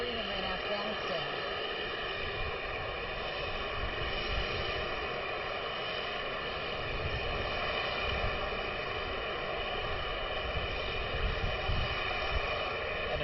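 Harrier jet aircraft hovering overhead at an outdoor display, a loud, steady roaring jet whine that stays constant throughout, with people talking beneath it.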